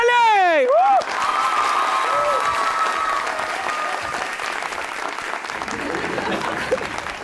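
A television studio audience breaks into loud, sustained applause and some cheering as a guest is welcomed. A brief swooshing stage effect plays at the start, and voices talk over the clapping.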